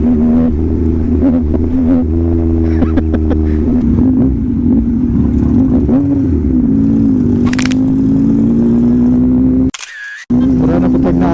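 A 2021 Yamaha MT-09 motorcycle with an SC Project exhaust runs loud and close, its engine note climbing and dropping through revs and downshifts, with a brief sharp cut near the end.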